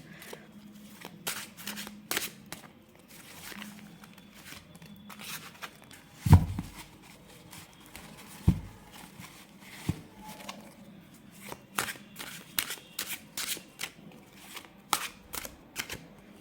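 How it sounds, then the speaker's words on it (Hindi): Tarot cards are shuffled quietly, with a series of crisp riffling snaps and taps spread irregularly over a faint low background hum. "I will take one more card from tarot"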